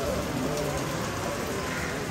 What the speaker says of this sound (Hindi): बारिश हो रही है दोबारा.